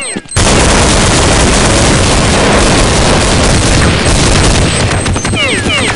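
Gunfire in the video game Counter-Strike 1.6 on a desert map: a dense, loud burst of shots and booming reports filling several seconds, with brief ricochet-like chirps and radio-style chatter at the edges.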